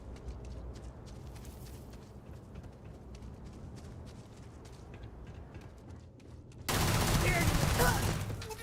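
Grenade launcher fire in the space role-playing game Starfield: a run of scattered combat thumps and footsteps, then a sudden loud, sustained blast-heavy roar near the end.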